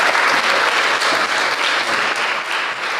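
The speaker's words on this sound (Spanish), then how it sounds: "Le pedimos un fuerte aplauso para el licenciado" An audience at an education forum gives a strong round of applause, with steady, dense clapping from many hands that stays loud and even, then eases slightly toward the end.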